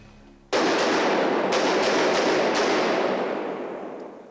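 A gun fired on a film set: a sudden loud blast opens a dense, roaring burst with several quick shots stacked inside it, then the sound slowly fades over a few seconds.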